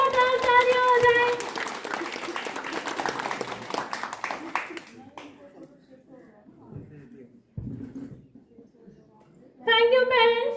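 Applause breaks out at the grand opening of a children's play zone in Chandigarh, a short burst of clapping mixed with cheering and chatter that fades into quieter crowd noise before voices rise again at the end.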